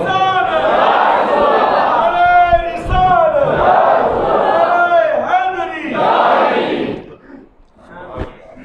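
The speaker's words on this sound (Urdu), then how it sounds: "سارے بولے نا، سارے نعرے کا جواب دے۔" A large crowd at a religious lecture shouts back in unison after a slogan, several loud bellowed chant responses in succession, then trailing off into scattered voices and quiet near the end.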